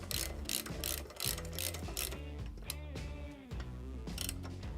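A ratchet tightens the sissy bar bolts on a 2004-or-later Harley-Davidson, clicking in steady repeated strokes close up, with brief pauses between pulls and no talk.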